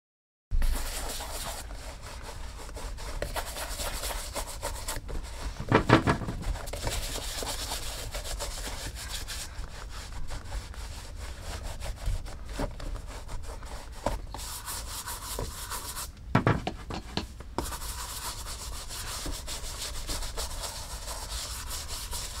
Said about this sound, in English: we got a pair of Gucci driving loafers here, and they're going to need a good cleaning, polishing, and we'll condition them as well